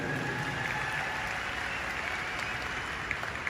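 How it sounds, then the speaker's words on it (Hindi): A stadium audience at a speech event breaks into loud, sustained applause, a dense continuous wash of clapping that holds steady throughout with no talk over it. "एक जोरदार ताली आप लोग अपने लिए बजा दीजिए"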